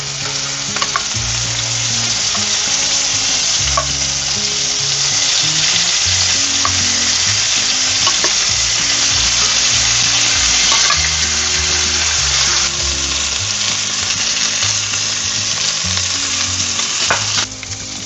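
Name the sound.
beef pieces searing in pan with olive oil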